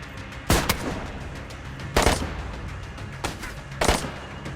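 Gunfight gunfire in the video game DayZ, four loud, separate shots spaced about a second or more apart over a steady background bed of ambient game noise.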